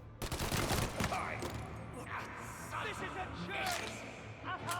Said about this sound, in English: I want to see how the Tommy gun handles in this game